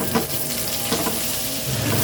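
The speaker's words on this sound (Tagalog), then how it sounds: "At magigisa na nga tayo dito ng bawang at sibuyas." Garlic and onion sautéing in a pan for bangus steak, a dense steady sizzle with occasional stirring scrapes, close and without talk.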